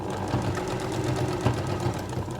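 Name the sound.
sewing machine sewing quilt binding to the end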